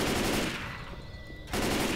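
Automatic gunfire against zombies in the game Left 4 Dead 2, on the Dead Air map: a loud, close, dense rattle of shots that breaks off briefly, then resumes.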